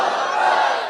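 A large crowd at a religious gathering in Sialkot roars back a chanted slogan response in unison, a loud, dense wall of voices sustained for under a second.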